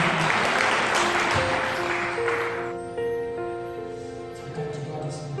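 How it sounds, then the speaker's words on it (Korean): Church congregation clapping hands together, a dense burst of applause that fades out as sustained tones continue underneath. "우리 좀 영적인 전투력을 모아서 세게 한번 할렐루야 하면서 박수 치겠습니다"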